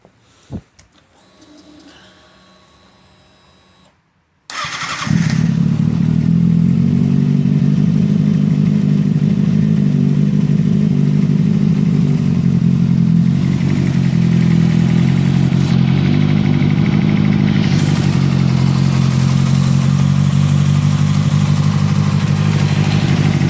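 A 2007–2008 Kawasaki ZX6R with a Two Brothers slip-on exhaust starts after a few faint clicks and a brief pause, then settles into a loud, steady close idle with a slight rev partway through.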